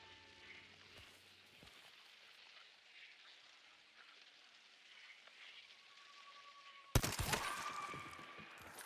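Gunfire in the game Hunt Showdown: a single sharp, loud shot cracks out near the end after a long stretch of quiet ambience, followed by a ringing echo.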